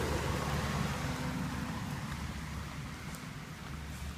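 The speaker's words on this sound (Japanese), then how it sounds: "雨降ってる" Steady rain falls outdoors during a walk, a continuous broadband hiss that holds at an even loudness throughout with no voices.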